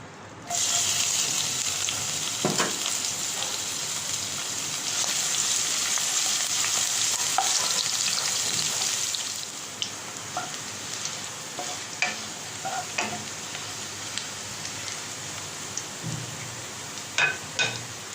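Green chilies and crushed garlic hit hot oil in a pan, giving a loud, continuous sizzle that settles after several seconds into quieter crackling broken by scattered pops and stirring clatter.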